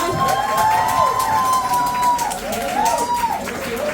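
A crowd applauding and cheering, with a voice carrying over the clapping.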